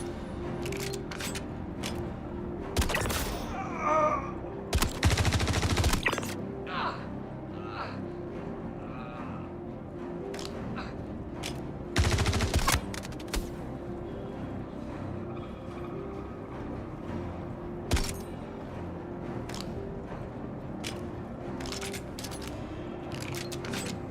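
Gunshots in a video game ring out as a few loud, sharp bursts, a pair around the fifth and sixth seconds and another near the twelfth, over a steady low background of game ambience.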